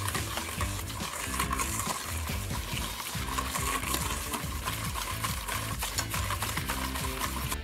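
Steady, close scraping and stirring of a bacon cure with Worcestershire sauce and apple whiskey being mixed in a bowl, continuous and even, with no talk.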